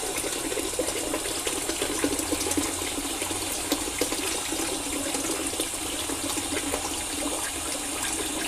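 Tap water runs steadily into a bathroom sink during a wet-shaving lather session, a continuous rushing splash that holds at an even level with no talking.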